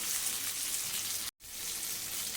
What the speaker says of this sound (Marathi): आता आपण हे पलटी करून घेऊया आणि दुसरी बाजू पण एक पाच मिनटं आपण छान फ्राय करून घ्यायची